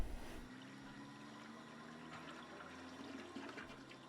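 A toilet flushes with a rushing, gurgling water swirl that stays steady and fairly faint. No voices.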